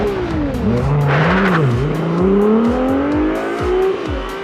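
A 2021 Ferrari 296 GTB sports car accelerating hard, its engine note climbing steadily in pitch through the revs with a brief gear-change dip, loud and close, with no talk over it.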